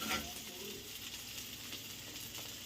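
Onions and green chillies fry in a pan for a noodle dish with a faint, steady sizzle that stays low and continuous throughout.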